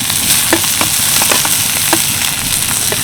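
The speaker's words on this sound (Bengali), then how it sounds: "অল্প একটু সাদা জিরে পেঁয়াজ কুচি কাঁচা লঙ্কা কুচি হালকা একটু নেড়ে ফেলে নিলাম" Cumin, chopped onion, green chilli and grated carrot stir-fry in mustard oil in a pan, giving a steady close sizzle with repeated light scrapes and knocks of the stirring spoon, with no talking.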